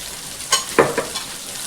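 Okra pieces cooking in hot oil in a pan, with a steady soft sizzle broken by a few brief stirring scrapes, near and moderately loud.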